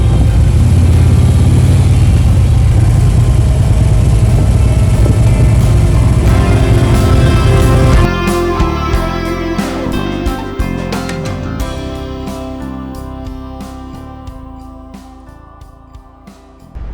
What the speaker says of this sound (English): yes, I'm on a motorcycle